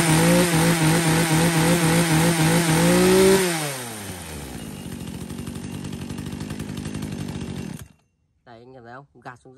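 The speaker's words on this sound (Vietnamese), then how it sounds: "Hàng máy cưa hệ nòng đứng vòng tua cao." A Japanese-market used chainsaw, sold alongside Husqvarna, Makita, Echo and Komatsu saws, revs hard at high RPM, then drops to a rough, throbbing idle and cuts off, followed by a brief bit of speech.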